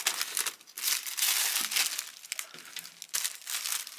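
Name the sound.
wrapping paper crinkling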